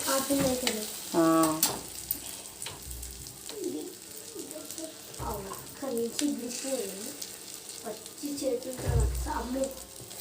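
An omelette sizzles and fries in a pan with a steady crackle, while pigeons or doves coo nearby and voices murmur faintly in the background.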